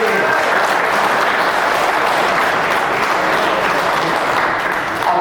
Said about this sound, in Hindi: तो एक ताली तो बनती है हमारे साहू जी के लिए और उसके लिए.